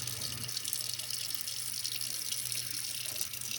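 Water flows steadily through a residential furnace drain into a sink, a constant close splashing rush with no breaks or voices.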